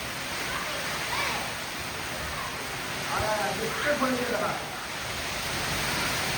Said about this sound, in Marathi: वारा असल्यामुळे पाऊस बघा, इथल्या कोपऱ्यात सुद्धा पाऊस येते